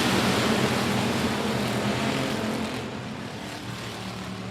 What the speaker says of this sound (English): coming out of turn 4, revving up those engines, rushing at you